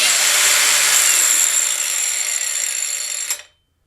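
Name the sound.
cordless Bauer brushless angle grinder cutting, then braking to stop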